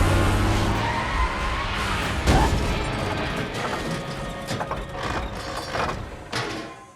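Car tyres skid loudly in a movie chase scene, with a sustained screech and roaring engine, a heavy thump partway through, and continued rumbling motion.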